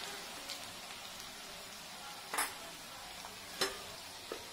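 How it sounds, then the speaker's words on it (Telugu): Chilli powder, salt and turmeric fry in oil for a mutton curry while being stirred, making a faint, steady sizzle broken by a few sharp spoon scrapes against the pan. "ఇది బాగా కలుపుకుందాం, ఆయిల్లో ఫ్రై అవ్వాలి ఉప్పు కారం పసుపు ఇవన్నీ."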